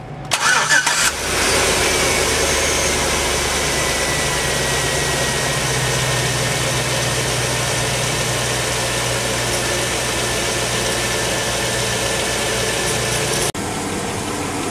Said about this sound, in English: Okay, so the engine is running,